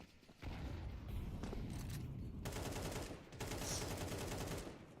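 USP pistol fire in a Counter-Strike match sounds amid dense gunfire bursts: rapid, sharp cracks in clusters with short pauses between, loud and busy against a game background, with no voices.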